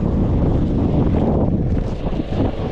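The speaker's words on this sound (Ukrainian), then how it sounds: "Вітер холодний." Strong, cold gusting wind at an outdoor market in Poltava, Ukraine, buffets the microphone in a loud, continuous low roar, with no voices heard.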